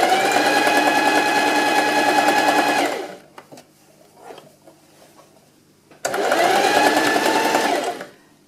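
Sewing machine stitching around a hand-knitted Norwegian sweater to attach the sleeves, a loud, steady mechanical whir in two runs of about three seconds each, separated by a quiet pause with faint handling noises.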